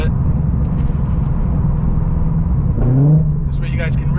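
An Audi RS3 fitted with a Borla XR1 straight-through muffler growls and drones steadily around 3,000 RPM from inside the cabin, with a brief rise in pitch near the end and a voice talking over it.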